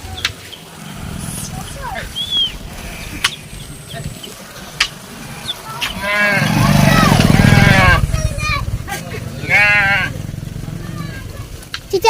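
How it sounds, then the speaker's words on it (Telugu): A lamb bleats several times in a village setting, its wavering cries rising over loud nearby talk and a passing motorcycle rumble. "గొర్రెపిల్ల"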